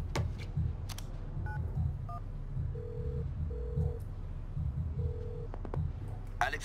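In the FIFA 19 story mode, a phone call is dialed, with short electronic dial tones beeping in a few separate bursts over a low background murmur and scattered clicks.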